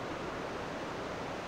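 Ocean surf on the coast of Olympic National Park rolls as a steady broadband wash, loud and continuous, with no voices.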